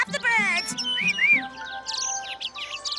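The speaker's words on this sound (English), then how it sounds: "Oh, Papa, don't you just love the birds?" Cartoon birds chirp in quick, bright tweets and rising whistles, several calls in a row, with a voice talking over them early on.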